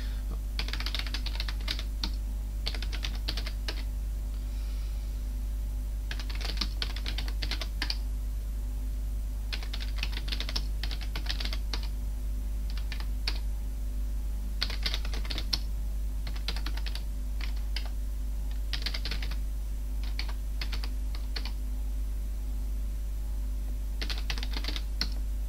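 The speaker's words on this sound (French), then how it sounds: "Je tape trop vite au clavier." Fast typing on a computer keyboard while playing the 1987 Loriciels game Ranger 3 on a Thomson TO8 computer, with bursts of rapid clicking keystrokes separated by short pauses over a constant low electrical hum.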